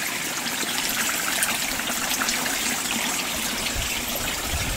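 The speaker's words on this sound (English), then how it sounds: "Water. And here it is, flowing, magically released, never stops flowing." Flowing water runs steadily in a continuous close trickling and gushing stream, moderately loud with no voices over it.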